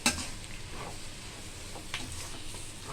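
Egg noodles are tossed and mixed in a pan, soft stirring scrapes and faint sizzling close by, with a light clink at the start.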